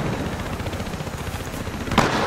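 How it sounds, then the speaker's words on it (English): Two-round bursts from an HK-51 rifle in the video game Battlefield Hardline, a dense clatter of shots running throughout with a sharper, louder burst near the end, heard alone without talk. "I keep forgetting the HK-51 has burst."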